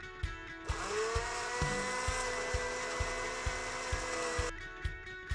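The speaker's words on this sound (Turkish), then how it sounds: "yumurta akını mikserle çırpalım." An electric hand mixer whips egg whites in a bowl with a steady, close, high whir. The beater clicks rhythmically against the bowl, and the motor cuts off near the end.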